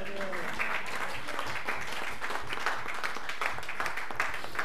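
A church congregation claps and cheers for Jesus Christ at a revival service, dense continuous applause filling the room from start to finish.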